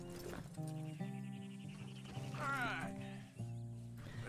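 Horse in the Red Dead Redemption 2 video game, with a short whinny-like call over game music and ambient sounds, and a hint of hoof clip-clop nearby.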